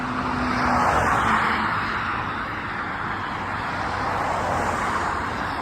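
An electric taxi passes along a city street, a broad steady road whoosh that swells slightly early on and holds at moderate level, with no voices.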